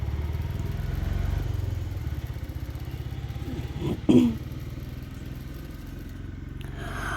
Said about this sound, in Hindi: मैंने एक एक पार्ट को इस तरह से सिलाई कर रही हूँ।